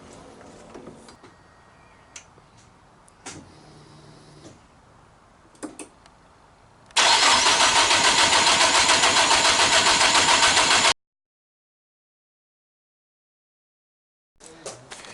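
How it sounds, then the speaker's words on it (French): A Nissan S14 car engine cranks and fires after eight months sitting idle, with temporarily connected hoses, then roars loudly and steadily up close for several seconds before cutting out abruptly; scattered workshop clatter comes before it and another noise after. "on va juste raccorder les durites pour essayer de démarrer la voiture"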